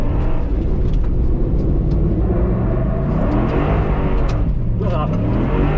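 A 2012 Ford SVT Raptor, a heavy Gen 2 pickup with a 6.2 liter V8, revs loudly and steadily as it accelerates, the engine note climbing and dipping with wheel hop, with voices talking over it.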